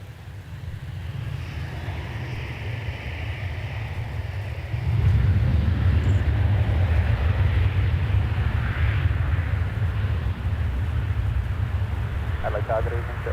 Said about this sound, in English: You've also got a Qantas Dash 8300 coming around the bottom of the terminal there for Port Lincoln.